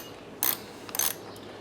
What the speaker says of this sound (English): take a 10mm and loosen up your clamp on your positive side